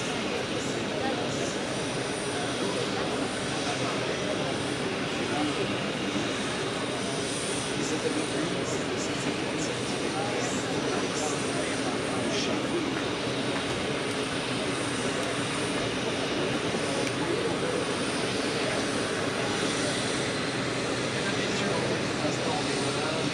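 A steady, broad roar of jet airliner engines at the Paris Air Show, with a Boeing 737 MAX 10 taxiing into position. Constant loud rumble and hiss throughout, with a voice talking faintly over it.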